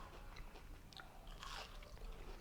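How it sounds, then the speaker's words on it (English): Crisp crunching from biting into hot fried zucchini, a few close bites with chewing noises, fairly quiet with faint room background. "Are you hearing the crunch?"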